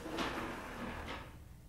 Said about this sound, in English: pulls up a chair,